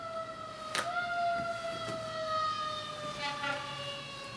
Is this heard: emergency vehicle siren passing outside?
yes